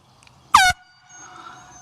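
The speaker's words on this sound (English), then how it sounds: "if you don't, then you should get one of these air horns" One short, loud blast from a boat air horn, a bright, harsh honk lasting about a quarter second, then quiet low background noise.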